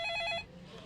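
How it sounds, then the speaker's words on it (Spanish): A telephone bell rings in short repeated trills, bright and clear, then cuts off abruptly, leaving a quiet room. "el teléfono comenzó a sonar"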